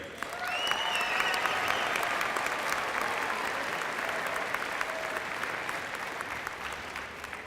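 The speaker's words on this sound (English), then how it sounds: "Let's give a nice round of applause to our Vice Mayor, Mr. Henry Schwaller." Sustained audience applause at a Special Olympics opening ceremony, a dense crowd clapping steadily and loudly throughout, with a few faint cheers or whistles mixed in.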